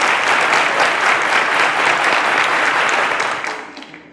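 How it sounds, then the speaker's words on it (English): A studio audience on a maths quiz show applauds a contestant, a thick burst of clapping that holds steady and then fades out near the end. "A round of applause to Deborah, ladies and gentlemen."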